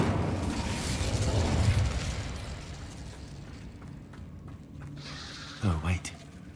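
A loud rushing blast of flame from the Incendio fire spell in the video game Hogwarts Legacy fills the first seconds and then fades. A person talks faintly afterward.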